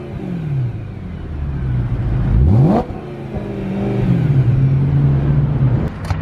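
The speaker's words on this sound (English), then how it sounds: "Let's see what a stock exhaust sounds like revving." A stock-exhaust BMW E92 M3 revs loudly and close by, the engine note climbing sharply to a peak and dropping back, then holding a steady elevated idle with small blips, with no talking.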